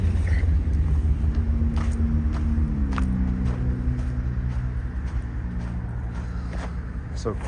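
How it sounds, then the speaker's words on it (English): A Ford F-150 pickup truck rumbles with low engine drone while pulling off and spinning its tires in dirt, a steady close, loud rumble with a rising tone midway, no talk over it. "I'm just going to give her a little bite in drive, of course, and see if it spins up dirt on all 4"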